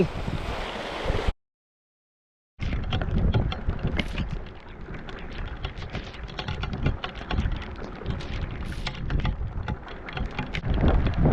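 Steady heavy rain pours down on a seashore with a dense, loud hiss and patter, broken by a brief silence near the start.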